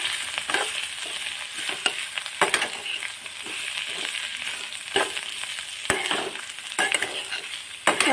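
Snake gourd stir-fry being stirred in a pan, a steady sizzle broken by repeated scraping strokes of the spatula at an irregular rhythm, close and fairly loud with no talking.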